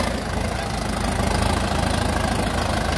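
A 120 hp tractor pulling two 34-disc harrows runs with a loud, close, steady diesel engine rumble and knocking throb, with no talk over it.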